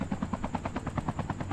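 Helicopter in the mobile shooter game Call of Duty Mobile, its rotor chopping in a steady, even rhythm at close range with a constant engine hum underneath, no voices.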